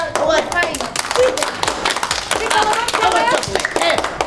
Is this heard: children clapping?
yes